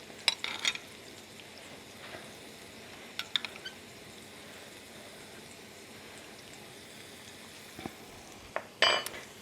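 A steady, soft sizzle of eggs frying in a pan, with occasional clinks of a utensil against the pan.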